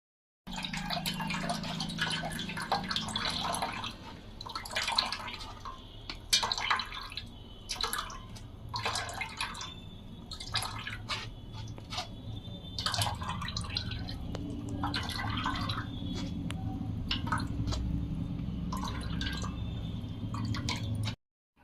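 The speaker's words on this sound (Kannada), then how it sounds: "ಮಿಕ್ಸಿ ಜಾರಿಗೆ ನೀರು ಹಾಕ್ಕೊಂಡಿದ್ನಲ್ಲ, ಅದನ್ನೂ ಕೂಡ ಪಾನಿ ಒಳಗೆ ಸೇರಿಸ್ತಾ ಇದ್ದೀನಿ" Water from a mixer jar poured into a vessel of pani puri water, a long run of trickling, dripping and splashing with a few brief pauses, close by and moderately loud.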